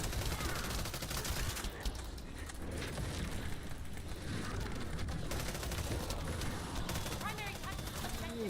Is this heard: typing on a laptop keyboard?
no